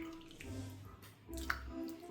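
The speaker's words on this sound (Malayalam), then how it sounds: "വാളംപുളി വെള്ളത്തിലിട്ടിട്ട് അതിൻ്റെ വെള്ളം ഇതിലൊഴിക്കുക" Tamarind water pours into a mackerel curry cooked with bilimbi, making a short, quiet splashing trickle that swells twice over a low background hum.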